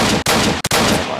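Rapid gunfire from a weapon in the Roblox game Apocalypse Rising, a dense continuous burst interrupted by two brief gaps, loud and close with no talking.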